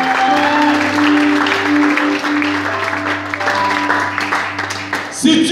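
A church congregation applauds and cheers loudly and continuously, with sustained organ or keyboard tones ringing underneath and a burst of voices near the end.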